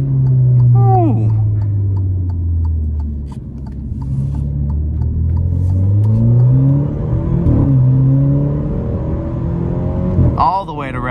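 Alfa Romeo Giulia engine heard from inside the car on a drive, rising revs climbing toward redline with shifts and drops between pulls, loud and close, with someone talking over parts of it.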